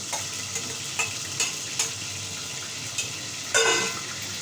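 Onions tipped into ginger-garlic paste frying in a pan, giving a steady close sizzle with soft periodic stirring scrapes and a louder hiss swelling near the end.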